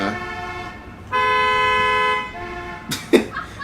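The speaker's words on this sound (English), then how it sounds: "lots of honking outside" Car horns honk on the street outside an open window, one long steady blast followed by a shorter toot, heard fairly clearly against quiet room noise with no talking.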